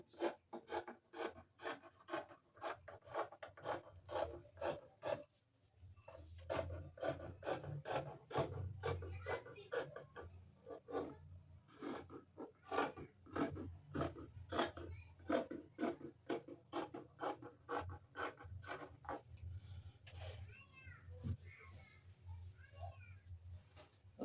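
Scissors cutting through fabric for a simple sewn gown, a steady run of rhythmic rasping snips and rubbing strokes that continues nearly unbroken, close and fairly quiet, with no talking.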